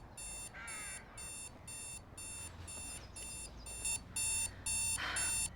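An alarm clock goes off with a steady run of rapid, evenly spaced high electronic beeps. The beeps repeat in bursts for several seconds and grow louder near the end, with no voices over them.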